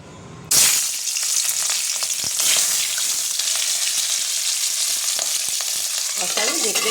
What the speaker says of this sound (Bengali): মাছটা খুবই ফাটে, অতএব মাছটা আমি কড়াইতে দিয়ে সাথে সাথে ঢেকে দেবো।